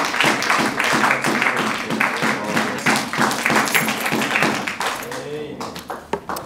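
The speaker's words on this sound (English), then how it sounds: "Just clap our hands and thank the Lord." A church congregation clapping hands in a steady rhythm at the close of a service, loud and sustained, with voices and singing mixed under the claps.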